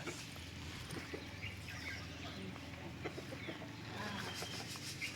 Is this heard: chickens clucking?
yes